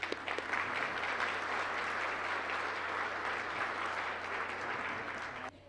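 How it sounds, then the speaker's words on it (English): Steady, dense applause from a large audience at a university honors night fills the room for several seconds before cutting off abruptly. "if everyone can join me in a bit of applause for President Novak"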